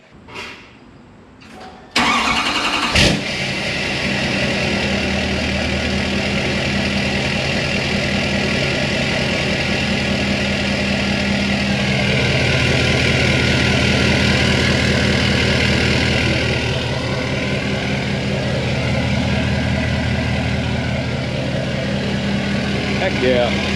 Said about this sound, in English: We're gonna fire this thing up, see what she sounds like.